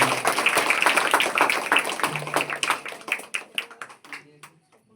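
An audience at a Teacher's Day event claps in a dense burst of applause that thins out and fades to silence within a few seconds.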